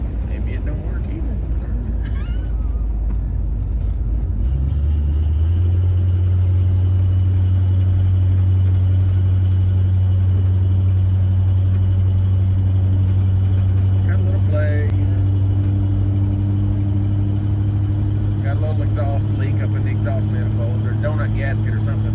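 An AMC Rambler wagon's engine hums steadily at low pitch on its first shakedown drive after restoration, a constant drone with light road noise and occasional cabin talk.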